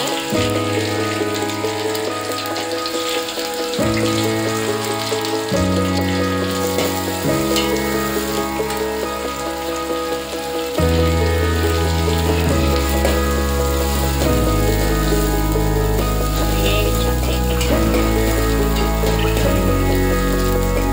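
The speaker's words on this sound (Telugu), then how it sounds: "వేయించుకోవాలి ఆనియన్స్" Chopped onions fry with cardamom, cloves and cinnamon in a pan for veg pulao, a loud continuous sizzle with crackling bursts, while steady tones play throughout.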